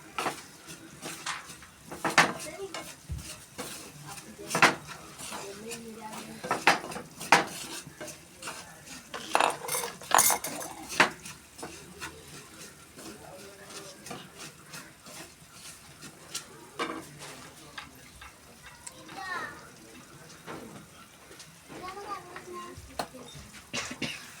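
Grated coconut sautéed in a pan with a spoon, heard as continual scraping and clinking of metal against the pan over a light sizzle, close and fairly busy with no voices.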